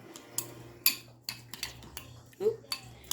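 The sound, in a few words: spoon mixing ingredients in a bowl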